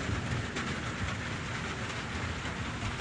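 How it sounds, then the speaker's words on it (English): A rainstorm pours down steadily, a dense, even hiss of heavy rain with no letup and no voices across the whole stretch. "We have a few seconds of the rainstorm before we lose power"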